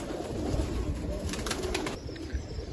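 Pigeons coo softly and continuously at a rooftop pigeon loft, their low murmuring steady throughout with a few faint higher chirps and bits of wing movement in the background.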